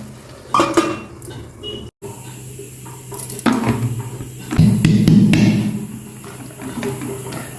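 Ragi upma being scooped from a cooking pan into a serving bowl, with several scrapes and clinks of a spoon against metal and a few louder knocks near the end, close and moderately loud.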